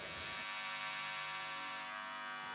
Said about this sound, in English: So you have this buzzing, humming sound, which adds to the sense of threat.